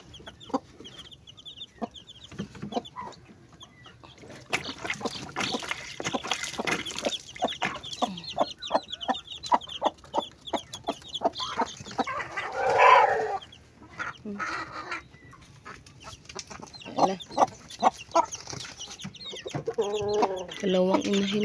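A third batch of newly hatched chicks peeps alongside hens clucking nearby, with repeated short calls and louder bursts scattered throughout; a person speaks softly at times.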